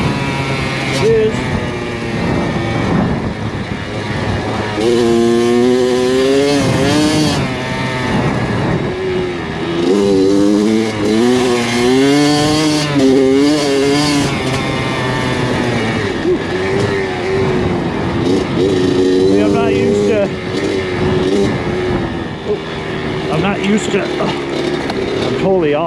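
A Kawasaki KX100 two-stroke dirt bike ridden up in the hills, its engine revving up and down in rising and falling sweeps with a raspy, buzzing tone, loud and close throughout while the rider talks over it.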